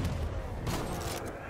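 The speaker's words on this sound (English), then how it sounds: "He just walked through the explosions." Explosions and gunfire from a World War-era shooter video game, a dense continuous barrage of booms and bursts heard throughout, with brighter blasts breaking through the rumble.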